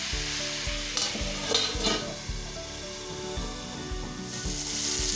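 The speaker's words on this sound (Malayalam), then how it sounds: "ഇനി ഫ്രൈ ചെയ്ത ഉരുളക്കിഴങ്ങും ഇതിലേക്ക് ഇട്ട് കൊടുക്കാം. ഇത് നന്നായി മിക്സാക്കി കൊടുക്കണം." Fried potatoes are mixed into a sizzling garlic masala, with steady frying hiss under repeated rhythmic scrapes of a spoon against the pan, close and continuous with no talk.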